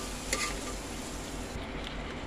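Dal lentils are stirred in a pan over low sizzling heat, with a soft steady frying hiss and a brief scrape of the spoon, close and fairly quiet.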